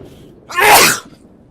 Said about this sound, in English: Excuse me for the sneezing.